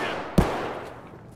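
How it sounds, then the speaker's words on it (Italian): A single sharp gunshot in Escape From Tarkov, one loud crack that decays into a faint, fading echo. "Ho sentito i spari."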